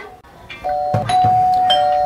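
An electronic doorbell rings loud and close, one sustained chime tone with a few soft clicks and room noise around it.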